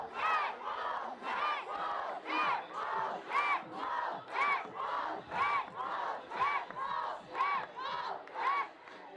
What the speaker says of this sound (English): they're still cheering down on the field level